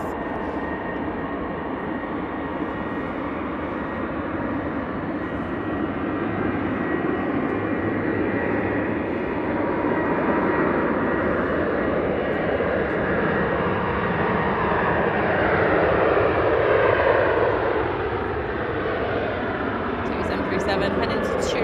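An airliner departs Manchester Airport for Turin, its jet engines a sustained, loud rushing roar that swells gradually and stays dense and unbroken for the whole stretch.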